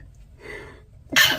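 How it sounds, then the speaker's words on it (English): A short, sharp sneeze bursts out near the end after a brief quiet breath-in, close and fairly loud. "I gotta sneeze, y'all."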